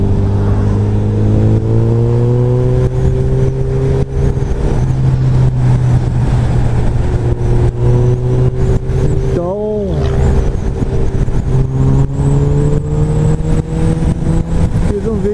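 A motorcycle fitted with a Yoshimura R77 exhaust idles loudly and close by, its engine note rising and falling in repeated revs, with a sharp blip about two-thirds through.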